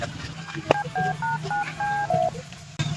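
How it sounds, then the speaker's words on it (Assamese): A quick run of telephone keypad tones beeps out, about ten short pitched presses in succession, with faint background murmur. "মই ফোনটো লগাই দি আছো"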